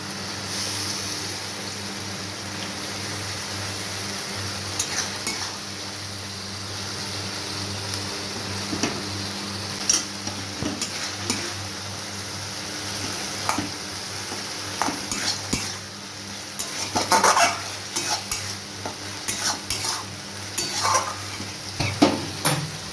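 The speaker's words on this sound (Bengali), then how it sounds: "মশলাটাকে খুব ভালো করে আমি কষিয়ে নেব এর মধ্যে দিয়ে দেবো একটা টমেটো" A Bengali spice paste with tomato sizzles in a pan for a taro, potato and fish curry, while a spoon stirs and scrapes against the metal again and again, with clinks growing busier toward the end.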